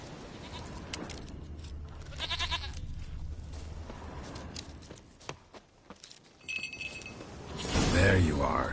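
A goat bleats in The Witcher 3 video game, a short wavering call partway through over steady low game ambience, with hoof-like steps and brief scuffs, then rising noise toward the end.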